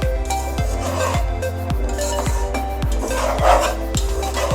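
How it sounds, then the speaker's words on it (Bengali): Rice for vegetable biryani being stirred and fried in a pan, loud repeated rhythmic scraping strokes of a spoon against the pan bottom, close and continuous, no voices. "চাউলগুলো ভালো মতো ভাজতে হবে"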